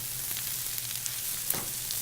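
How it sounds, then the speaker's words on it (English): Crispy bacon fries for risotto con pancetta, a constant close hiss of sizzling fat with small pops scattered through it, steady and with no voices. "Bacon is nice and crispy and brown. And I'm going to cook this like this for about 2 or 3 minutes"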